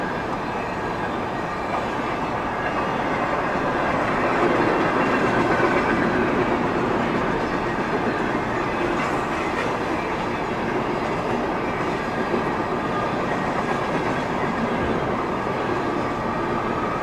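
A CSX freight train hauling many boxcars rolls past close by, a continuous loud rumble with rhythmic clickety-clack of wheels over rail joints throughout.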